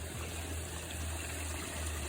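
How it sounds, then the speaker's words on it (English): A garden waterfall runs in a steady, continuous rush of flowing water, close and unbroken, with no voices over it. "But this is one of my waterfalls"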